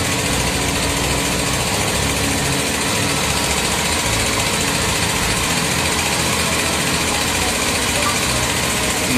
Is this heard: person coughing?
no